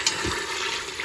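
Chicken breast sizzles and browns in a pan, a continuous close frying hiss with a soft stir or flip of the meat at the start, with no talking.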